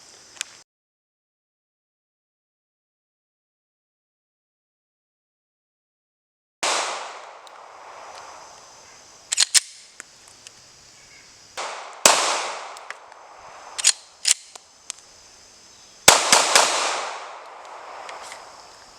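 Glock 19 Gen 6 pistol gunshots at a range, sharp loud cracks fired singly and in quick clusters after a long silent pause, with irregular gaps between shots.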